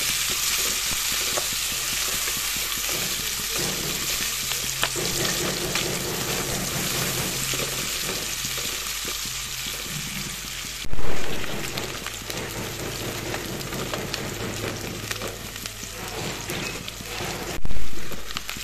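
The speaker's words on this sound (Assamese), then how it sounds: "পিঁয়াজখিনি অলপ ৰংচঙুৱা কৰি ল'ম মই" Onions fry in hot oil in a pan with a steady, dense sizzle that runs throughout at close range. Two brief louder bursts break in partway through.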